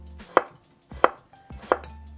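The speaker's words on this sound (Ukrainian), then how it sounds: "Також нарізаю чесничок" A knife slicing garlic chops three times on a cutting board, evenly spaced sharp taps about two-thirds of a second apart, close and clear.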